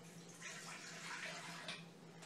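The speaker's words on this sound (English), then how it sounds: "We're going to add our 2 packages of yeast, our 2 cups of warm water." Warm water pours steadily into a mixing bowl of yeast for calzone dough, a faint continuous splashing rush lasting a couple of seconds with no voices.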